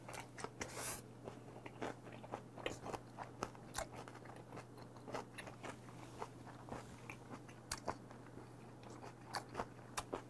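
Someone chews fermented skate, beef tartare, octopus and aged kimchi in quick, crunchy bites, close and quiet, with a steady low hum underneath and no talking.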